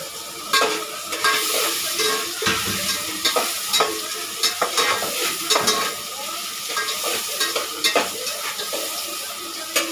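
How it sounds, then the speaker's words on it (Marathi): Green chillies and chopped onion fry for pasta with a loud constant sizzle, broken by repeated sharp scraping and clinking of a spatula stirring in the pan. "आता आपण ही मिरची आणि कांदा एकदम चांगला असं भाजून घ्यायचं असं मीडियम असा भाजून घ्यायचं"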